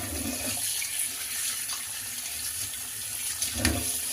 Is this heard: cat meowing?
no